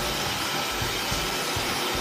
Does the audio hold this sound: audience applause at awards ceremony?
no